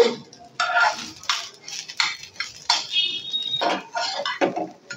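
Pulao rice with salt being stir-fried in a pot, a spoon scraping and clinking against the metal in quick irregular strokes, fairly close and with no talking.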